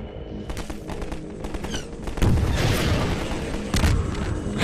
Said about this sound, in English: Giant explosions.